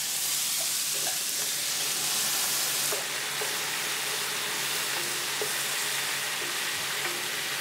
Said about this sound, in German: Und jetzt kommt unser Schmorgemüse dazu.